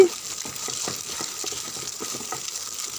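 Something frying in a pan with turmeric powder and salt gives a quiet, close, even sizzle, dotted with light taps and rustles from stirring.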